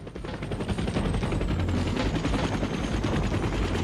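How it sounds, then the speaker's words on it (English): Helicopter in a TV show, a loud steady rotor roar with rapid chopping pulses filling the whole stretch, close and continuous with no talk. "helicopters are very loud"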